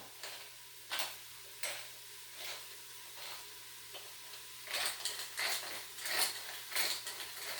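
A hand grinder crushing seasoning over savoury shanks in a home kitchen, heard as a series of short, dry grinding bursts spaced out at first, then coming faster and louder near the end, close by with no talk.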